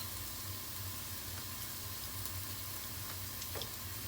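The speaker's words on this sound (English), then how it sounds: "So you let this cook a couple minutes on sear." Garlic cloves searing in a Pampered Chef Quick Cooker on the sear setting, a steady soft sizzle with faint crackles heard up close and without talk.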